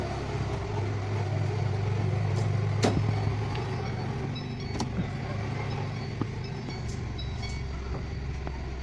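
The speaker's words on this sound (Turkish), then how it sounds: "Çok rahat gaz alıyor." A car engine runs steadily after its MAF sensor has been cleaned, a continuous close mechanical drone with a low hum and faint ticking, without clear peaks.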